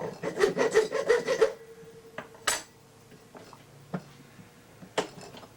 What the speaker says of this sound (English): I do that with a small tooth X-Acto file, saw.